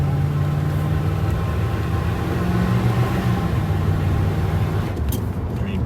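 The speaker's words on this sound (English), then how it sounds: "Let's give you a taste of what this car does." A 1970s Rolls Royce drives and accelerates, a loud, steady, close engine rumble and road roar that holds throughout, easing slightly toward the end.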